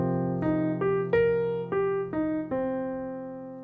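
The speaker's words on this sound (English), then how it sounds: "ascending" Jazz piano plays an arpeggio rising then falling, seven clear struck notes in an even eighth-note rhythm over a sustained low chord, close and alone, the last note ringing out.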